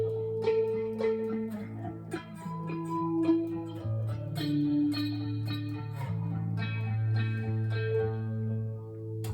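Electric guitar plays an intro riff at full tempo with octave shapes moving down the neck, a continuous run of picked notes and ringing sustained tones with a slight effects coloring, no voices.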